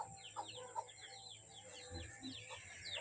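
Chickens clucking and calling close by, with bird chirps scattered through a steady background hum.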